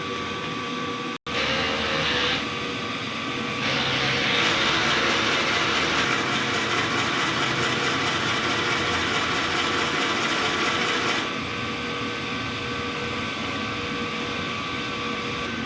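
DTF printer running a print head cleaning cycle, a steady loud mechanical whir and hum that shifts in pitch and intensity partway through, with a brief click near the start.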